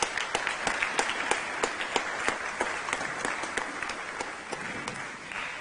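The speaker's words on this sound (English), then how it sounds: "Can we give them a round of applause?" Steady audience applause fills a first ladies' roundtable at the second UN Habitat Assembly in Nairobi, with dense, even clapping from a crowd holding at a constant level for several seconds.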